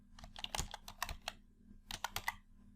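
Quiet keystrokes on a computer keyboard while entering an Excel formula, a short run of clicky taps, a pause, then another quick flurry of keys.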